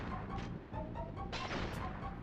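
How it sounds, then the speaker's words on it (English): Explosions in the PS1 game Crash Bandicoot, a cluster of sharp, crashing booms in quick succession at low level, with some overlapping game effects and no speech. "what is exploding? I hear explosions."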